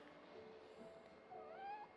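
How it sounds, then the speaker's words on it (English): A foster cat gives a faint, drawn-out meow with a rising and falling pitch, heard close by and alone over quiet room tone. "This is the cat that we're currently fostering."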